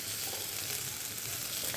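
Onions fry over a high flame in a pan, giving a continuous, even sizzle that sounds close and moderately quiet, with no speech.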